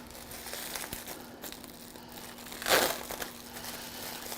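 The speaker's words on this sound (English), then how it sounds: "We'll open up this cauliflower." A cauliflower is opened up in a kitchen: one sharp, close crinkling crunch stands out briefly over a quiet background hum, with faint rustles around it.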